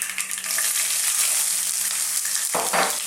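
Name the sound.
ginger sizzling as it is added to the curry pan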